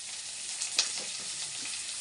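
Garlic and curry leaves fry in a pan, giving a steady close hiss of sizzling oil with one brief sharp crackle partway through.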